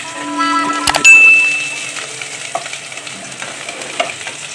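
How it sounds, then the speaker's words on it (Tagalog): Onion sautés in a pan for sardines with sotanghon, a loud close sizzle with a clatter and brief squeal early on, followed by continued crackling and occasional stirring scrapes. "Lagay daw ng sibuyas muna."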